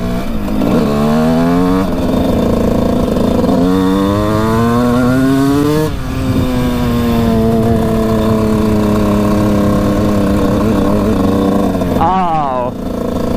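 Suzuki RM125 two-stroke dirt bike ridden at full throttle on a wooded trail, its loud, close engine repeatedly screaming up through the revs, dropping back and climbing again for several long pulls, with brief gear changes between them.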